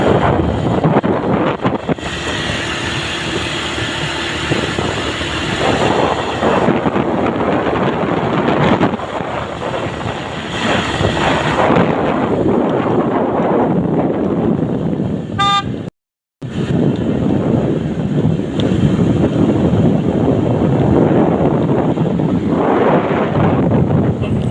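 Cold wind blows among many trees, a continuous loud rushing buffet on the microphone with brief gusts and one short dropout, and no talk heard.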